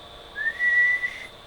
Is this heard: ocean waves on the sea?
no